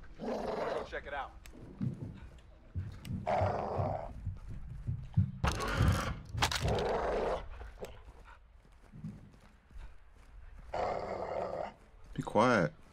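A caged dog in Call of Duty Modern Warfare II growls and snarls in low rumbling bursts, with a few sharper bark-like hits, while game voices and ambient noise play over it.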